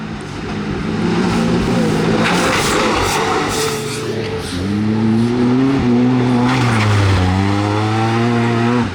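Two UTVs, a Speed Baja Bandit with a fresh XP1K engine and a Can-Am Maverick R, charge through off-road whoops, their loud engines surging and dipping in steady waves with rising revs and constant drivetrain roar close by.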